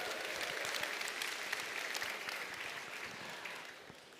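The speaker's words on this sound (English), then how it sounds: "So a big round of applause for everybody in Group B who got this correct." A lecture audience at a mathematics talk gives a sustained round of applause, many hands clapping densely at a moderate distance, slowly tapering off toward the end.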